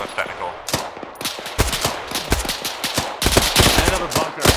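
Machine gun fire in the Arma combat game, with the gun on a technical vehicle: rapid irregular bursts of sharp shots crack loudly in quick succession, mixed with more distant gunfire throughout.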